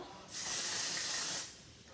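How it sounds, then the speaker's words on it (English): A steady aerosol hair spray hisses for about a second, close and fairly loud, then cuts off into quiet room tone. "holding it away from her face so I don't spray it directly up her nose"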